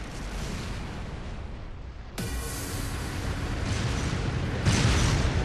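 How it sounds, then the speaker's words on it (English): A battle between tanks in the video game Trails of Cold Steel, at a military training ground: a sudden heavy cannon blast cuts in midway, followed by rumbling, crackling combat and another loud burst near the end. "Watch these tanks going at it."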